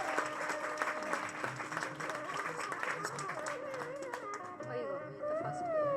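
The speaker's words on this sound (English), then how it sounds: "can we give little clap for them?" A crowd at a wedding ceremony claps for the couple, a burst of applause that fills the first part and thins out, with voices and music-like tones rising toward the end.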